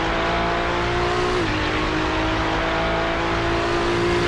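A Porsche race car at the Daytona 24 Hours in iRacing, a loud, steady engine drone with a sharp pitch drop as it passes, continuing as a sustained roar afterward.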